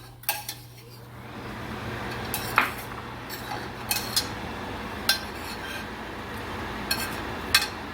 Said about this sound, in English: I'm going to keep stirring this risotto